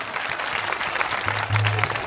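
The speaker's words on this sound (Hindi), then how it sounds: "जोरदार तालियां हो जाए फिटकरी वालों के लिए।" Applause from the audience at a Shrimad Bhagwat Katha religious gathering, a steady patter of many hands with a low hum entering near the end.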